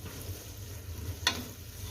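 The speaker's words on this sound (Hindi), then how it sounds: "अब हम इसकी अच्छी तरह से भुनाई करेंगे।" Minced keema with peas sizzles faintly in a pot as it is stir-fried dry, a soft steady hiss with one sharp scrape of the spoon.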